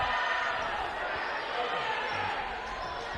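Murmuring, disgruntled crowd at a Clarinda versus Shenandoah boys' high school basketball game, a steady broadband rumble of voices reacting to a referee's call, continuous and fairly distant throughout.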